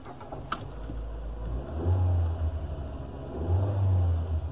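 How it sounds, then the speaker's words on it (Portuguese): A Peugeot 308 started with a copied flip key: the engine cranks and catches, settling into a low steady idle hum with a few small rises, heard close with faint clicks. "Vamos usar na partida, o carro vai ligar."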